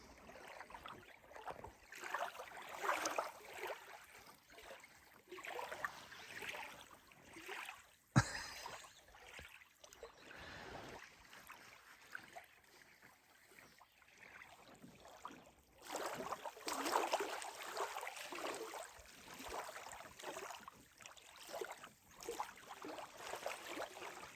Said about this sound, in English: So he's out doing a little bit of canoeing.